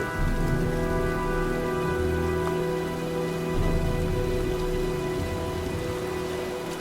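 A storm in the video game Heavy Rain: steady rain hisses on surfaces while low thunder rumbles underneath, with a faint tonal hum from the game's ambience throughout and no speech.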